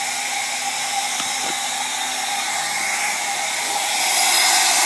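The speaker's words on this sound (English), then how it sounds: "There's your first leak right there, which are the piston rings" Compressed air at about 50 psi hissing past the piston rings of a 617 diesel engine in a Mercedes 300D during a leak-down test, a steady close airy hiss that swells louder near the end.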